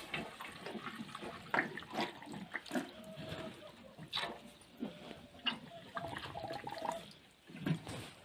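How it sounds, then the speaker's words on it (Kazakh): Water runs into buckets in a steady, close, splashy rush. Its level swells and dips irregularly with no pauses. "Мына шелектерге құйып алып, мына қалғандарына сосын"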